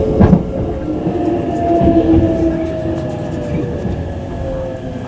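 A limited express Mahoroba train rumbles steadily along the rails, its low mechanical drone easing as it slows to stop at a station, with faint wheel clatter and a few sharp clicks early on.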